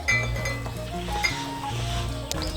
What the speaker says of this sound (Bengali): নুন আর হলুদের গুঁড়োটাকে ভালো করে মিশিয়ে নেব পটলের সঙ্গে